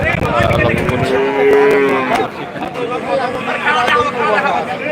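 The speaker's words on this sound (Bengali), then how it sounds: "সুন্দর ছোট্ট একটি বাছুর গরু আমরা এখানে দেখতে পাচ্ছি" A small calf at a large Bangladeshi cattle market lets out a long, loud, close moo, with the chatter and babble of a crowd of people continuing underneath.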